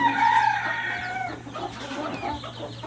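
Country chickens cluck close by, with one drawn-out call at the start followed by scattered short clucks over a low steady hum.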